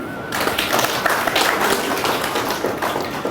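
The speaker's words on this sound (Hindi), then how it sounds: "अब बजाओ ताली।" An audience claps together in steady, dense applause at a spiritual astrology talk, loud and sustained for a few seconds with no voices over it.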